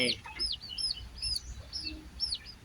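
Ten-day-old bantam chicks peeping and clucking in a backyard pen, a string of high chirps repeated every half second or so, close and clear over a low background rumble, with no talk.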